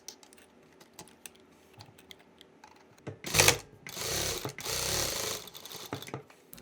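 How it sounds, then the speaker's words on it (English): Sewing machine stitching a quarter-inch seam on a rectangular cloth shopping bag with a regular presser foot, a short burst followed by a steady mechanical whir lasting about two seconds, preceded by faint handling clicks. "we'll be sewing 1/4 of an inch at this edge"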